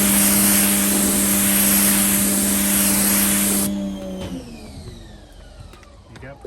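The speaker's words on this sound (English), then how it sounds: "So I spray a little bit wherever you missed." A loud, steady hiss of water spraying onto a truck with a mechanical hum runs for several seconds, then cuts off abruptly, leaving quieter background noise and faint sounds.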